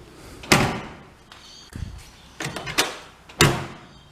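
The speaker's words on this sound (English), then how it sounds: "I like the way the door's shut now with all the new rubbers. It sounds nice and solid." A Holden HG Monaro car door with new rubber seals shuts several times, each a solid, close thump followed by a short dull rattle, with brief pauses between the slams and no talking.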